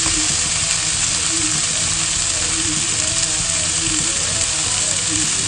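Minced meat and softened tomatoes frying in a pan as a Turkish pide filling, giving a steady, close, continuous sizzle with faint stirring scrapes and no voices.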